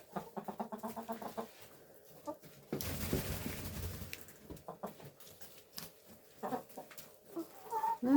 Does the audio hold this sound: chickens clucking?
yes